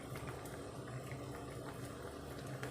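Water boiling in a cooking pot with kamote tops for a simple lunch, a steady, continuous bubbling hiss at moderate loudness with no talking.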